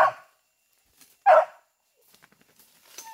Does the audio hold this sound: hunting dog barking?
yes